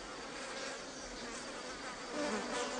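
Bees buzzing around yellow-tipped arum flower stigmas, a steady faint hum that goes on throughout with no breaks, slightly louder toward the end, and no voices.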